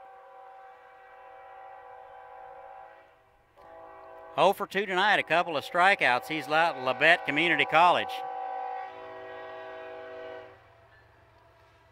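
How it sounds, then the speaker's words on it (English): A train passing near a small-town baseball stadium blows its horn in a long series of loud, wavering blasts over a steady rumble, while a play-by-play announcer talks before and during it. "And if you hear a train, you are not hearing things. We have one about every 30 minutes"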